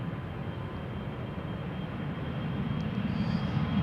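KLM Embraer 175 airliner departing Amsterdam Schiphol Airport, a steady low jet roar that builds slightly, heard from a distance without voices.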